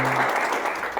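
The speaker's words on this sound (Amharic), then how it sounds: "የሚገርም ጭብጨባ አለ" A studio audience breaks into dense, steady applause, a loud continuous wash of clapping from many hands with no pauses.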